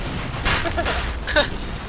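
Gunfire in the video game Killing Floor, a pair of close, sharp bursts of shots over a steady game background, with the second burst a little louder than the first.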